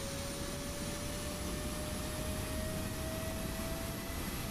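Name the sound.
PMDG 777-200ER APU heat exhaust, flight simulator video game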